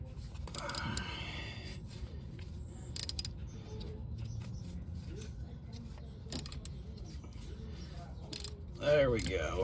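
A ratchet works loose an 11 mm transmission fill plug on a Chevy Equinox, giving faint clicking and creaking bursts in a quiet garage, with soft mechanical clatter throughout.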